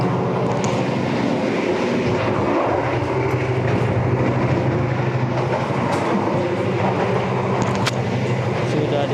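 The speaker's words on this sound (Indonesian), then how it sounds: "Sudah di gerbong saya adalah gerbong ekonomi 3" Steady rumble and rattle inside an economy carriage of the KA Mataram New Generation train travelling between Yogyakarta and Jakarta, a continuous loud rolling drone with faint clicks and no clear speech.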